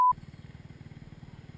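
A dirt bike engine chugs in a fast, even low pulse as it climbs a hill, heard at a modest level after a short electronic beep at the very start.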